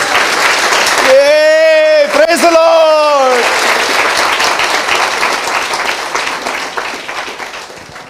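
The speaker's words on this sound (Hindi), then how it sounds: "आइए इस कलाम के लिए ताली बजाएं" Congregation applause at a Hindi church service, dense clapping throughout, with a sung or chanted voice rising over it in the first few seconds before the clapping carries on alone and slowly thins.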